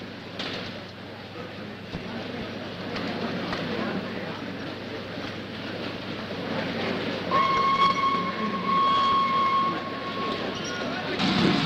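Steady rumble and clatter of a train rolling along the rails, with a horn-like tone sounding partway through, heard from inside.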